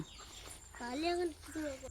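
A hen clucks in two drawn-out, wavering calls close by, with a quieter outdoor background in between.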